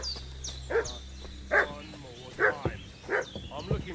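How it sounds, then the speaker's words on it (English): A dog barks repeatedly inside the medieval world of the video game Kingdom Come: Deliverance II, four or five sharp barks spaced about a second apart over a low steady ambient hum, with faint talk in the background. "What's that dog making such a fuss about?"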